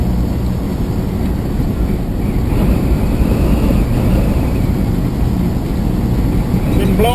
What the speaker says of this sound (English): Oh my God, is it ever windy?